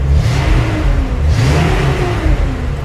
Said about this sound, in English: Hear how quiet it is now with the exhaust on it.